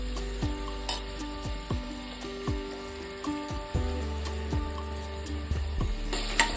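Whole biryani spices fry in three teaspoons of oil in a pressure cooker, a close crackling sizzle broken by repeated sharp pops and metallic clinks, moderately loud with no voices.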